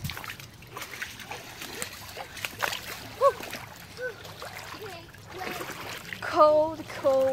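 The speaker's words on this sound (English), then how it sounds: "I didn't fall down, but I did splash myself." Splashing and trickling water while wading in a cold creek, irregular close splashes and stepping through water, with people talking and exclaiming over it.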